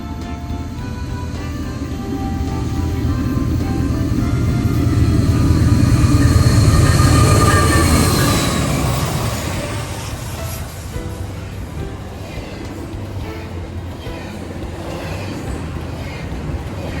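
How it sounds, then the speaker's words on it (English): A Norfolk Southern intermodal freight train passes eastbound at track speed, its rumble swelling to a loud peak as the cars roar by, then easing into a fading rattle of wheels on rail. "Our next train was an NS intermodal train going eastbound."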